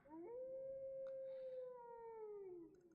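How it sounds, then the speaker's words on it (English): Wargs in the Lord of the Rings Online video game let out a single long, rising then falling howl, fairly close and clear, with no talking over it. "The howling of the wargs is much closer."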